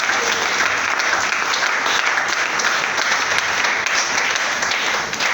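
A church congregation applauding during a French-language service: steady, loud, continuous clapping from many hands, filling the whole stretch with no pauses.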